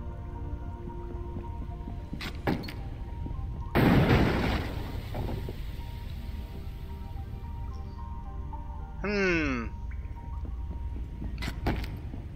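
A loud burst in Lara Croft and the Guardian of Light, in a toxic swamp level: one broad, noisy explosion erupting midway, followed later by a shorter swooping blast, over a steady game backdrop with no talk.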